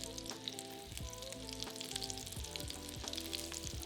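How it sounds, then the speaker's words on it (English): Salmon fillet frying skin side up in olive oil and butter in a pan over medium-high heat, giving a steady, close, continuous sizzle with scattered crackling pops throughout. "Now add the salmon to the pan skin side up so the seasoning is hitting the oil."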